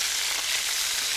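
Plantain slices for tostones frying and crisping in a pan of hot oil, giving a steady, dense sizzle with no break, close up and with no voices.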